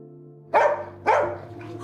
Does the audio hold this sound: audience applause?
no